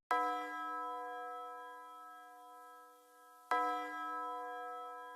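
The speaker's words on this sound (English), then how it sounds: "The next thing that's prominent in these kind of beats are tubular bells." Two struck tubular bell notes in a rap beat, each ringing out with a bright metallic tone and a long decaying sustain, the second strike arriving about three and a half seconds after the first, alone and clear.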